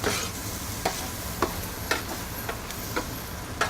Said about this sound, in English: So I've got the fat hot again, and I'm going to add the flour.